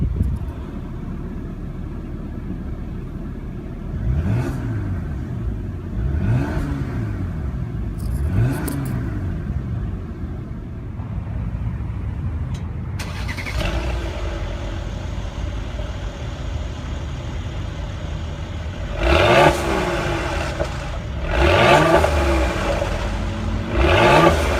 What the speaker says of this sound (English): Now let's put the vehicle in sport mode and we'll see how it sounds.